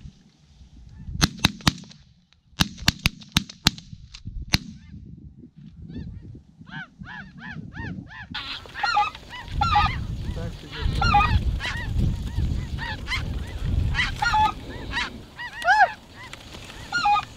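A flock of snow geese honking on a South Dakota hunt, a few sharp bangs early on, then a dense, loud chorus of overlapping honks and calls that builds and carries on to the end.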